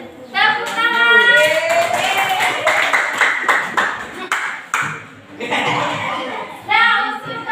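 A classroom of students clapping hands, several short bursts of claps scattered among a teacher's speech and children's voices, fairly close and moderately loud.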